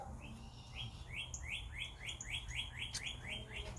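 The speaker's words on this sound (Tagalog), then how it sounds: "Ang ganda ng huni ng mga ibon, ano?" Birds chirp in a quick repeated series of bright, rising notes over a steady low outdoor rumble, fairly close.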